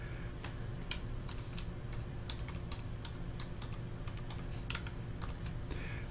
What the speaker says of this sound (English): You can see how slow I type.